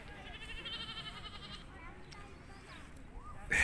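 Goats bleating at a petting park, several short wavering cries close by while children and adults talk in the background.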